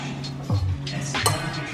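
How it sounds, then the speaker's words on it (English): Rice and beans stirred in a metal pot, with a few scraping clinks and knocks from the spoon against the sides, close and moderately quiet. "And then you mix it up."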